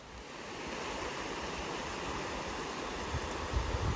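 River water rushing past a riverside campsite in New Hampshire, a steady broadband roar of flowing water that stays constant and fairly close, with a few low bumps near the end and no talking.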